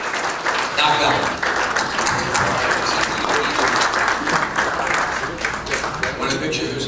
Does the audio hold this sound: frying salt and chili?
no